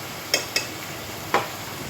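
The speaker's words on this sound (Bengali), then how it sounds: "ভালোভাবে এইভাবে নেড়ে নেব।" Potatoes dusted with turmeric powder are stirred in a frying pan, giving three short scraping strokes over a low steady sizzle, close and fairly quiet.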